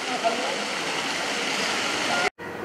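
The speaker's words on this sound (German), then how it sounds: "Auch hier gibt es wieder Wasserspiele in Form von Springbrunnen" Town-square water fountains in Osterode splash in a steady, broadband rush, fairly close and loud, continuing almost unbroken until a brief cut near the end.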